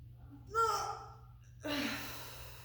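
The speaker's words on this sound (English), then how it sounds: "So inhale," Two deep breaths during a core exercise, a drawn-in gasping inhalation followed by a long breathy exhale, close and soft with no words spoken.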